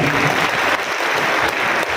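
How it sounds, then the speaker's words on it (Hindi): Loud, dense audience applause at an all-India mushaira poetry gathering at the Nauchandi fair in Meerut, continuous clapping from a large crowd filling the whole stretch, close and without talk. "इसकी उर्दू दोस्ती के लिए एक बार जोरदार ताली बजाइए।"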